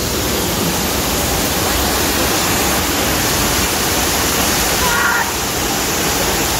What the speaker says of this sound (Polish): Na wodospadzie.